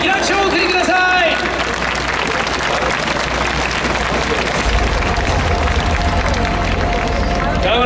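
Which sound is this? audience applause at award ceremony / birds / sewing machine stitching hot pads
audience applause at award ceremony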